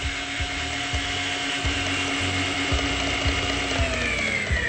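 An electric stand mixer whips egg whites for a dessert in a steady, loud mechanical whir with a rhythmic clicking beat from the beaters, running continuously and close up with no talking.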